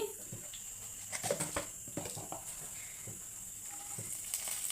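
Spices tempering in three spoons of hot peanut oil in a pan, a soft continuous sizzle and faint crackle with scattered small pops and light clinks, fairly quiet and close, with no talking.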